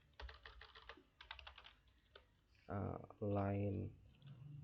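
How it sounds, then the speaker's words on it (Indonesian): Typing on a computer keyboard while entering network switch configuration commands, a burst of quick clicks early on, then a spoken voice taking over in the latter part of the clip. "Di sini ketikkan line"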